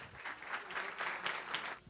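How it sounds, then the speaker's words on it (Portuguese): An audience applauds a speaker at a Brazilian business forum, a soft, distant patter of many hands that stays even and fairly faint throughout. "com os aplausos de vocês"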